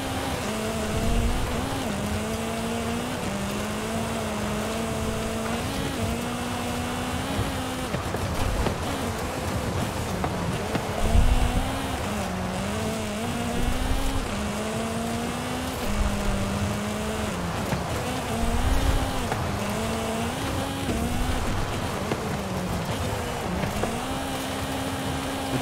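An Abarth 131 rally car drives on dirt in Forza Horizon 5, its engine droning loudly and rising and falling through gear changes and revs, with occasional bumps and tyre noise, continuous throughout.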